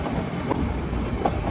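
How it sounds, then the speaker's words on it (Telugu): Diesel-hauled Ooty toy train running on the mountain line between Ooty and Coonoor, a steady rumbling rail noise with faint rhythmic wheel clatter, close and continuous. "మన ట్రైన్ అయితే డీజిల్ ఇంజిన్తో నడుస్తుంది"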